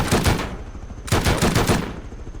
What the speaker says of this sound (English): give a demonstration of maybe shooting a base